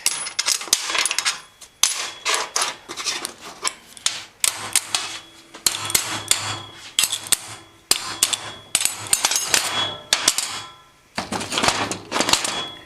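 Metal parts of a car suspension strut clank and rattle as it is taken apart. The spring, housing and other pieces make loud, sharp knocks and clatters in irregular bursts with short pauses, close up and with no talk.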